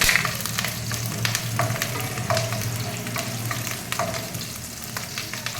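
Slit green chillies frying in lightly heated oil for a mushroom curry, giving a steady close sizzle with occasional stirring scrapes, no talking.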